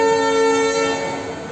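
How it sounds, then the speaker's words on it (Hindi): Train horn at a railway station on a journey from Delhi to Goa, a loud, close, sustained harmonic blast that slowly fades over about a second and a half. "अब बच्च ट्रेन दे हॉर्न भी वज्जी जांदे आ"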